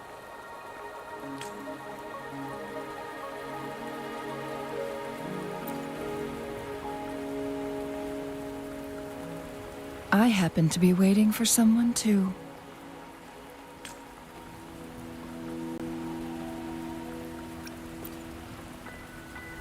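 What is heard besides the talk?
rain falling in the video game Wuthering Waves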